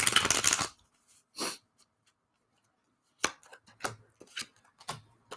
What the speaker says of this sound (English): And I will throw some cards down and then take action from those.